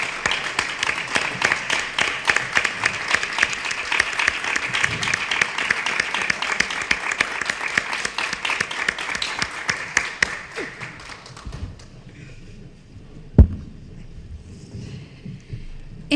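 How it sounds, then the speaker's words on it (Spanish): Sustained applause from those present at a council session for Francisco fills the room with dense, rapid clapping for about eleven seconds, then fades to quiet murmurs with a single loud knock. "nos ponemos de pie y hacemos un aplauso para Francisco"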